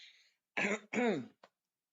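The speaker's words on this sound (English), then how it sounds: "Excuse me, I have a little cough." A couple of short, close throat-clearing coughs, followed by a tiny click, with quiet gaps in between.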